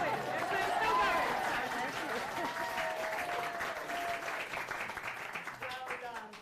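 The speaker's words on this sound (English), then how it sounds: "Stand and like just take the applause. Everyone's still going." An audience at the Folkestone & Hythe Sustainable Futures Forum keeps up warm, sustained clapping with some cheers, slowly thinning out over several seconds while voices talk over it.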